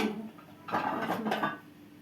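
Plates are set out on a table at home, giving a couple of close ceramic clinks and clatters over a quiet room.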